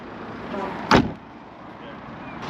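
A single solid thump as the boot lid of a Jaguar XK 4.2 (X150) is pulled shut by its grab handle, a short loud closing impact standing out over a low background hum.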